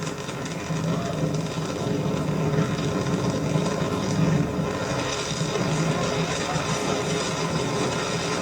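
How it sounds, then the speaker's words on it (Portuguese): A Falcon 9 rocket booster fires its engine for a landing burn, heard as a continuous broadband roar and rumble that stays loud and steady throughout. "And landing burn has hit startup, and we have ignition."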